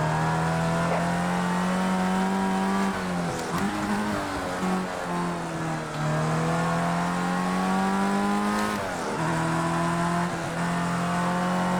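A race car drives hard in a PC racing game with a steering wheel, its engine holding a steady high drone that dips and rises through gear changes, with brief tire squeals, loud and continuous with no talking.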